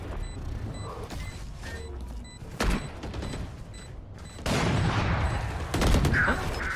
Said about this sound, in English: Throws out the flashbang.